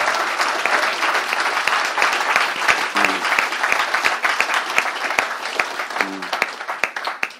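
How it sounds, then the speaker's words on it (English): A lecture-hall audience claps in sustained, dense applause at close range, steady for several seconds before thinning into scattered claps at the end. "Let's give one more round of applause."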